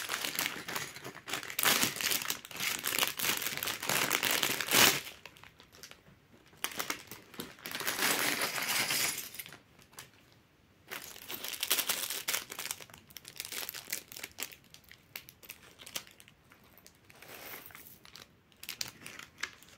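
A plastic bag from a Lego Sonic the Hedgehog mech set crinkles loudly and close as it is handled and torn open, in bursts separated by brief quiet pauses.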